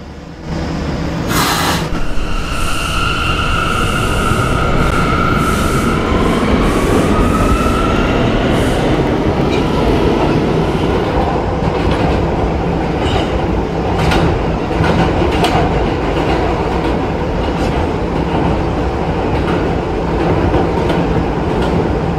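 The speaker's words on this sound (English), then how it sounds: "This is the Catalina bound D train." An R179 subway train on a D line run inside the Roblox game rolls along steadily and loudly, its wheels and motors droning throughout, with a brief high squeal near the start and faint rail clicks.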